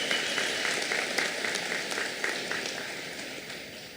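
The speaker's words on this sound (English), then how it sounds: "Please give these students a round of applause." Steady applause for graduating students at a 2024 high school graduation ceremony, a large crowd clapping continuously at an even level before slowly fading.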